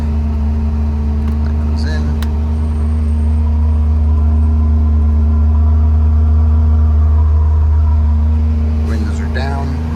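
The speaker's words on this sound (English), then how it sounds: "That is a cold start, just so that you know." A 1975 right-hand-drive Honda CVCC engine idling after a cold start, a steady low rumbling hum close by, with faint brief sounds of someone nearby.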